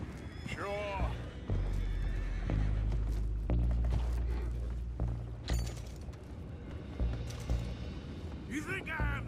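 Several horses neigh and whinny in Red Dead Redemption 2, with hooves clopping and thudding, under ongoing talk and a busy game soundscape.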